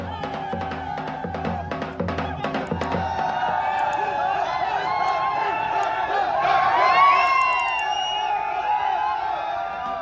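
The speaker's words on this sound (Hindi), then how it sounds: "भारत की जीत की खुशी में क्रिकेट प्रेमी बोले, इंडिया इंडिया" A large crowd of cricket fans celebrates India's T20 victory, with continuous cheering, whoops and shouting voices that swell toward the middle, and rhythmic clapping or chanting early on, all blended into a dense festive roar.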